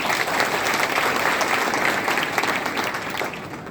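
Loud, steady applause from an audience at a political gathering, dense clapping that holds throughout before easing slightly at the end, with no voices over it.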